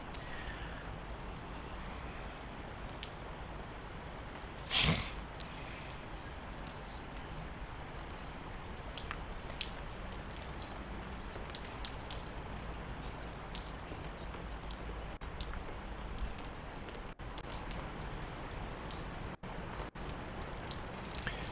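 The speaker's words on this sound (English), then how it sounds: "you can hear the heavy rain stroke sleet in the effects microphone in the background" Heavy rain mixed with sleet falls steadily at Edgbaston cricket ground, a continuous broadband hiss with a single sharp knock around the five-second mark, heard through a distant effects microphone.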